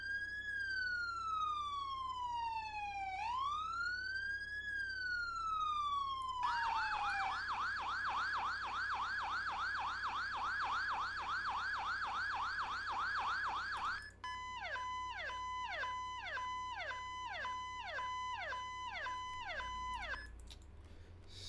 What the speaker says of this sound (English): the Federal Signal PA 300 as well for like the whale, yelp, and everything else